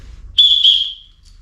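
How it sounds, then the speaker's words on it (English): A survival whistle gives one sharp, piercing blast lasting under a second, then fades out, loud and close against a quiet low hum. "The next thing that stays on me is a whistle."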